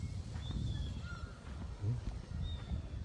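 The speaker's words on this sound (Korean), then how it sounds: "갈매기도 있고" Seagulls call at the Jeonchon breakwater in Gampo on the Korean coast, giving several short, scattered cries at moderate distance over steady outdoor ambience.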